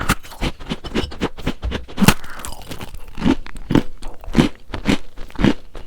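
Close, dry crunches of a pistachio cookie studded with whole pistachios being bitten and chewed, a steady series of sharp crackling bites about every half second with no talking.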